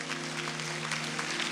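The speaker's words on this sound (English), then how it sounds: "Let's give her another big hand clap." Applause from an audience at a church ceremony for a bishop, a steady dense wash of clapping with a low steady hum underneath.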